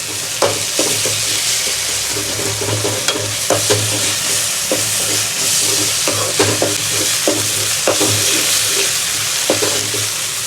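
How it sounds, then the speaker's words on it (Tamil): Onions with ginger garlic paste sauté in a pan, a steady loud sizzle with repeated spoon stirring and scraping knocks throughout, close up and without talk. "இதில் கொஞ்சமாக இஞ்சி பூண்டு பேஸ்ட் போட்டு நல்லா வதக்கிக்கோங்க"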